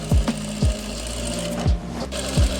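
A sewing machine stitches an Afghani salwar in four short, close bursts of whirring needle chatter with brief gaps between them.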